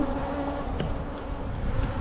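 Honey bees from a newly installed package colony buzz in a dense, continuous drone around their hive, a steady close hum with no talking.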